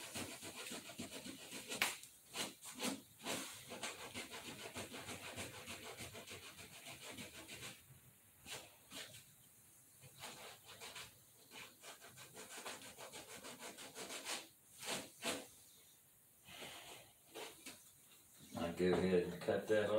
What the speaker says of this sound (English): sand it, make sure you don't have any bumps